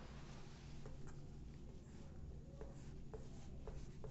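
A pen writes the letters PNS, giving faint, scratchy strokes in short bursts over a quiet, hissy room background.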